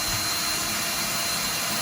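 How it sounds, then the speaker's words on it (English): A power drill bores a hole through old tile for a toggle bolt. The motor whines steadily and loudly, close up, for the whole stretch with no break. "now we're drilling a hole for the other toggle bolt"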